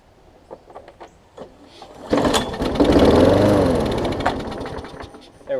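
An MTD self-propelled push mower's small engine cranks with a few pulls, then catches and runs loudly for several seconds before easing off, close by.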